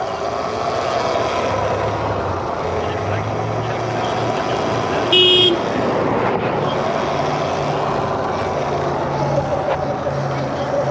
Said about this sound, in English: He just honked.